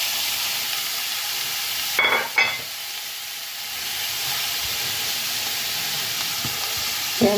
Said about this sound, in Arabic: غادي ندير الزبيده وغادي نرمي الكورجيت